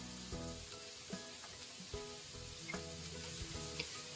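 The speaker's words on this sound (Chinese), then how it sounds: "再快速的翻炒均匀。" Shredded cabbage and soaked glass noodles sizzling hard in a hot wok, with the scrape and clatter of quick stir-frying over a steady frying hiss.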